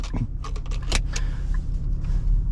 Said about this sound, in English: So let's get buckled in, turn the hazards off.